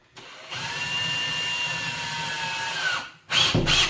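A power drill fitted with a 1.5 inch Torx bit drives screws during a Samsung stove installation, giving one loud, steady whine for about three seconds, then a short, harsher second burst.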